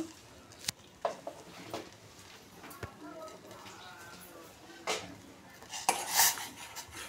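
Masala tea with cloves and pepper boiling in a pot is stirred, with sharp metallic clinks and scrapes of a spoon against the vessel, irregular and close, while a person talks over it.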